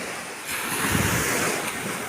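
Sea waves surge up the beach toward the loungers on the Tuscan coast, a broad rushing swell that builds after half a second and holds steady, with some wind noise on the microphone.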